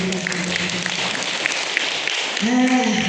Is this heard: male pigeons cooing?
no